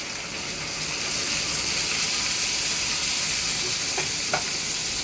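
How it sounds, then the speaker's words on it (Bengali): A paste of ginger, onion and garlic fries in hot oil in a pan while cooking aloo dum. It gives a loud, continuous, even sizzle with no talking. "এই তেলে ভাজা ভাজাতে এখানে ছেড়ে দেবো"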